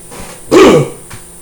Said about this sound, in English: Don't need to clear my throat.